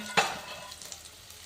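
Onion and garlic fry in a pan, a brief stirring scrape followed by a soft, fading sizzle, quiet and close with no voices.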